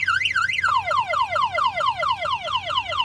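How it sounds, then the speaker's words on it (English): A tow truck's car alarm wails nearby, first in rapid rising-and-falling warbles, then in repeated descending sweeps, loud and continuous. "Your alarm is sounding on your vehicle."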